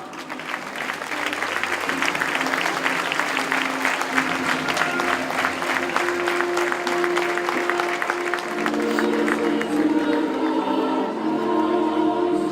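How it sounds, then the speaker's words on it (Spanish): Strong, sustained applause from a festival crowd at the Festa Major in Blanes, steady dense clapping that holds loud and even throughout, with whoops and a few voices mixed in. "un fort aplaudiment per tots ells, sisplau"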